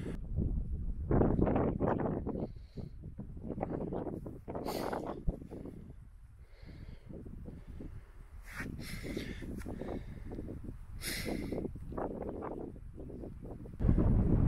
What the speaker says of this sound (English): Bit windy up here, but it's a beautiful day.